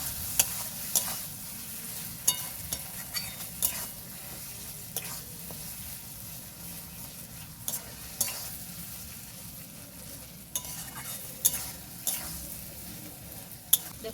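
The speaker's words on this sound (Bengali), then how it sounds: "মশলার সাথে পেঁয়াজটাকে ভালো করে মিক্স করে নেব" Fried onion is stirred into a spice paste frying in oil for a village-style mourala fish teljhal, with a soft continuous sizzle under repeated scraping and clinking stirring strokes.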